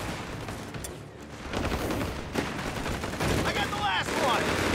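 MG42 machine gun fire in the World War II strategy game Company of Heroes 3, Italian campaign, with continuous rattling bursts and distant battle noise building steadily, under battlefield voices.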